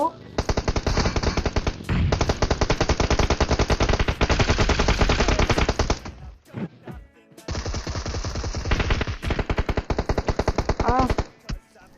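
Automatic gunfire from a video game as a full magazine is sprayed in long continuous bursts, loud and dense, with a short break before another sustained burst.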